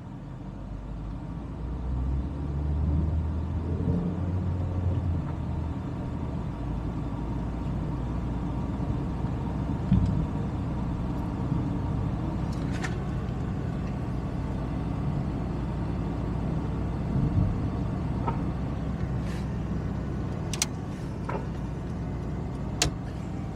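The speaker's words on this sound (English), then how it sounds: "It's a traffic jam of buses." Steady roar of bus and car engines crawling through congested traffic on a Perth road near Northbridge, continuous and close, with occasional higher clunks and squeaks over the low rumble.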